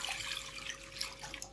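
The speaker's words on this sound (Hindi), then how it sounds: "ये हम इसमें पानी डाल देंगे" Water pours into a cooking pot on the stove for a liver masala curry, a close, steady splashing trickle that runs throughout the short moment without talk.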